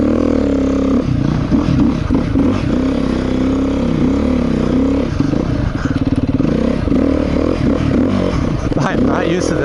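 A 2017 Beta 390RR dirt bike churns through soft sand, its engine droning loud and steady with throttle surges and clattering, while a rider's voice comes through at times.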